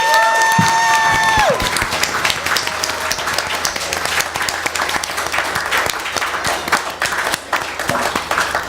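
An audience at a community gathering gives sustained applause for local volunteers, a thick wash of clapping with some cheering that follows a brief high whistling tone at the start.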